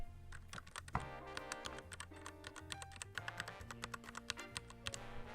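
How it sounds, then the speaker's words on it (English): Close, crisp typing on a computer keyboard, a quick irregular run of clicky keystrokes with a low tonal hum underneath. "Hidden in the corner is my keyboard that sounds really nice."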